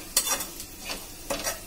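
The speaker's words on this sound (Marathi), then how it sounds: "त्याच्यामध्ये मी थोडस तेल गरम करून त्याच्यामध्ये फ्राय करून घेत आहे" Garlic frying in hot oil in a kadhai for Maharashtrian chivda: a close sizzle broken by three or four brisk scraping stir strokes.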